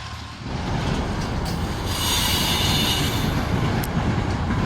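Two diesel locomotives rumble past close by in Kansas, a continuous heavy roar of wheels on rails with a faint squeal and hiss rising midway.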